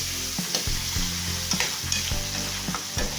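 Meat frying in a hot pan until browned, a steady close sizzle with periodic scraping and stirring thumps from a utensil, no voices over it.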